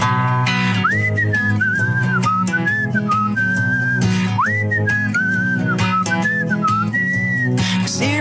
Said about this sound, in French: vous allez découvrir qu'on peut aussi siffler faux